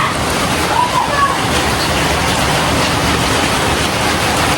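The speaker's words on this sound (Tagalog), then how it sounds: "Grabe yung lakas ng ulan." Dense, loud rush of heavy rain pouring down, a constant hiss with no breaks, close and enveloping.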